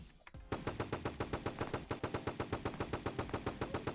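Rapid automatic gunfire in a Roblox shooting game fires in a steady fast burst of evenly spaced loud shots after a brief quieter lead-in.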